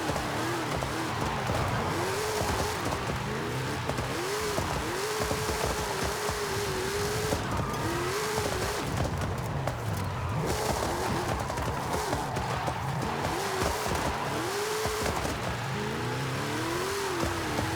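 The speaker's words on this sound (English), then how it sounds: "Just pop out of that exhaust." Car engine in Forza Horizon 5 driving downhill with exhaust pops and crackles, a steady loud engine drone with rising and falling revs running throughout.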